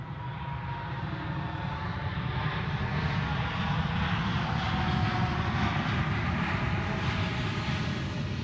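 A plane landing at Zurich Airport, its engines producing a loud, steady, broadband roar with low rumble and a shifting whine as it passes close by, continuous throughout.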